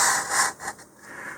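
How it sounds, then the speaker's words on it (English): Sandpaper of 100 grit rubbed over a model rocket's glossy body tube to dull the finish, a few close, loud rasping strokes with short pauses between them. "I'm going to take my 100 grit sandpaper here and roughen up right along that line."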